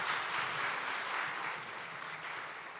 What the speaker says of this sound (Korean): 먼저 올 한 해 교회를 섬겨주신 모든 봉사자분들께 먼저 한번 큰 박수 한번